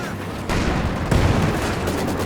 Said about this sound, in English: railway artillery is generally reasonably good